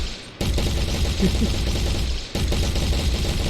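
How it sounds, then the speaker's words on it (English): Rapid automatic gunfire in a shooter video game, a dense continuous stream of shots that cuts out briefly partway through and then resumes just as loud. "we shoot everything else, we can shoot very, very quickly"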